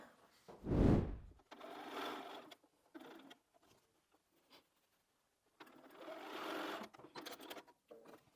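A sewing machine stitches binding onto a Christmas tree skirt, with a loud close burst of stitching at first, then quieter intermittent runs separated by near silence.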